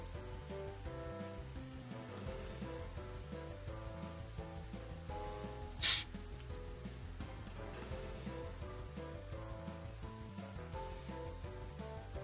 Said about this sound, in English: sky's clear, why is it raining?